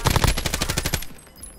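Rapid automatic gunfire in the Call of Duty Warzone video game, a loud burst of about ten closely spaced shots lasting around a second, then fading into quieter game ambience.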